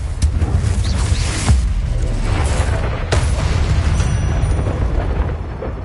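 Confringo spell blasts in Hogwarts Legacy, heavy booming explosions with sharp cracks over a dense rumbling battle din, loud and close.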